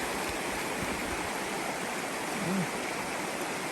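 Troublesome Creek, a small creek off the Parks Highway in Alaska, rushes and burbles steadily and close by as an even, unbroken wash of flowing water.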